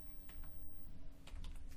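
Computer keyboard keys tapped in a quick, uneven burst while entering a command in a CLI console, soft and close under a constant low background hum.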